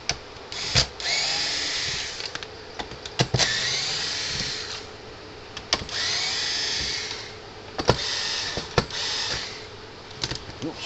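Power drill whirring in repeated short bursts while backing Torx screws out of a Zareba fence charger casing, with clicks and clatter of handling between runs, close and fairly loud.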